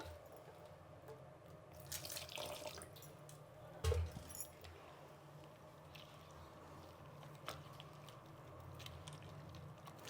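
Water is poured into a bowl of laddu flour batter, producing a soft, close trickle and gentle splashes, followed by faint squishy mixing sounds.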